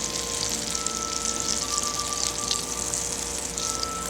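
Unsalted butter melting in a cast iron skillet over an open flame, a steady, close sizzle with soft bubbling and no talk.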